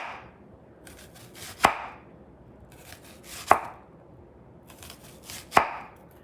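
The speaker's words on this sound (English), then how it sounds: "now we have a nice onion that I'm just gonna cut this way." A kitchen knife cuts through a peeled onion on a cutting board: three sharp, close chops spaced about two seconds apart, each a crisp knock against the board, with quiet room tone between them and no talking.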